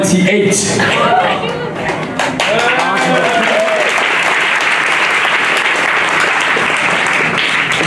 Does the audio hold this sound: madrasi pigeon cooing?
no